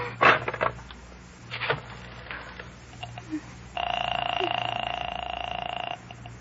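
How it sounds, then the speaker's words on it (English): An old-time telephone bell rings in a continuous electric trill for about two seconds in a radio crime drama, following some scattered clicks and faint background noise. "I will ring the service department. I am ringing."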